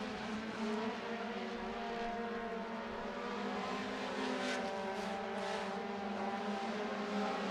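Sprint cars race around the 3/8 mile dirt oval at Lawrenceburg Speedway, a steady droning engine roar from the pack with slight rises and fades as cars pass, heard from a distance without talk.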